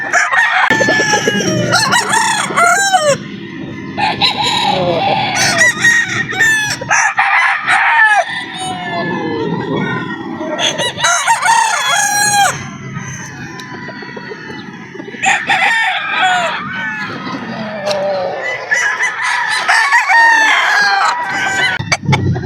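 B-boy bloodline gamefowl roosters, tethered outdoors, crow loudly and repeatedly, several birds overlapping close by, with clucking between the calls.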